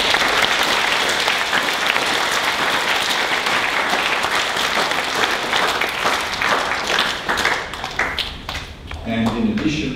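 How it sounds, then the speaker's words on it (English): Applause from a school assembly audience fills the hall steadily and loudly for about ten seconds, dense clapping that thins toward the end, with some voices mixed in. "Round of applause."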